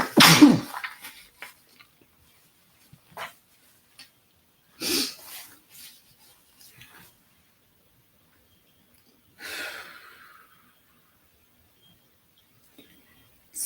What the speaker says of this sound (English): That's what the sneeze was about.